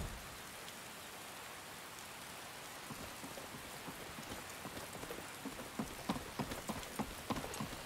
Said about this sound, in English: And great, it's raining.